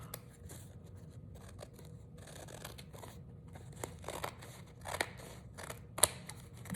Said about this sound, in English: I'm just going to cut the extra fabric off